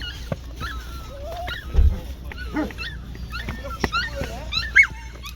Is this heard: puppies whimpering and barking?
yes